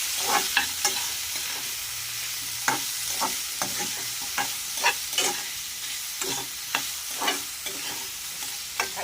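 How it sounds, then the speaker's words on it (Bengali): Vegetables coated in cumin paste are stirred and fried in a pan, probably raw banana and drumsticks for a rohu fish curry. Repeated close scraping strokes of a spatula come in irregular bursts over a continuous low sizzle, with no voices. "জিরে বাটাটা আমি দিয়ে দিলাম দিয়ে এই সবজিটা ভালো করে আমি শুকিয়ে নেব"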